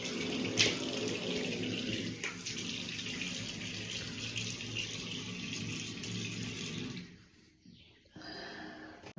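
Tap water runs steadily into a sink while a face pack is washed off, a continuous close splashing rush that dips briefly near the end before resuming.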